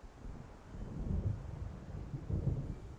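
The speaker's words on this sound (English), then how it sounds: "It seems there's a storm coming." A thunderstorm rumbles in the Alan Wake video game, with low rolling thunder swelling twice over a bed of wind and rain noise, moderately quiet and distant.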